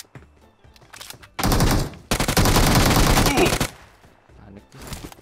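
Gunfire in a shooter video game erupts as two loud, close bursts of rapid automatic fire, the second one longer, with quieter single shots and pauses around them and players talking in between.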